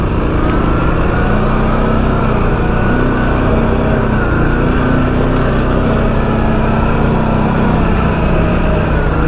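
Polaris XP 1000 side-by-side engine pushing through a tree-choked forest trail while clearing a path, a steady loud drone running continuously throughout with no pauses.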